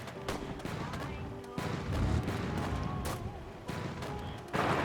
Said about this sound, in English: I like how it's just like a giant gun firing.